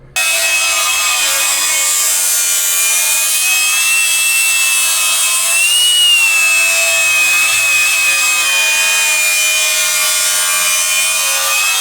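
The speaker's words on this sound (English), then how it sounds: "Gonna take Sawzalls and some flap disc to this and make it all nice and purdy, look like a normal frame." Reciprocating saw and flap disc grinding work cutting down a Jeep JL frame, a loud continuous high-pitched whine with a steady grinding rasp holding for the whole stretch, close up and with no talking.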